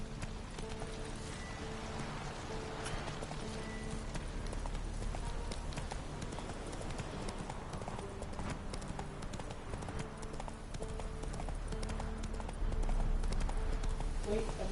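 A horse gallops in The Witcher 3 on PS4, its hooves clip-clopping in a fast, steady rhythm throughout, fairly quiet and continuous, with someone talking over the game sound.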